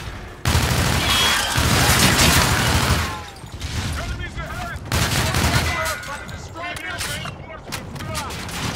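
Gunfire in the video game Call of Duty Infinite Warfare: a dense burst of rapid automatic fire followed by scattered shots and booming impacts, loud and near, with a player talking in places.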